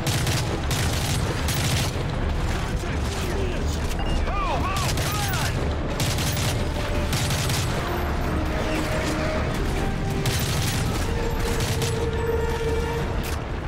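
Dense gunfire from the Modern Warfare 3 campaign battle in Paris, with an MSR sniper rifle among the shots: constant loud volleys and booms crowd together without pause, layered with rattling mechanisms and distant battlefield clatter.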